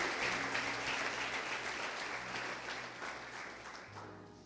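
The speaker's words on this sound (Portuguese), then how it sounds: "aplauda Jesus mais uma vez" Congregation applauding at a church revival service, a steady dense wash of clapping that fills the whole stretch and slowly fades toward the end.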